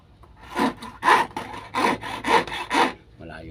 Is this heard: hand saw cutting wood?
yes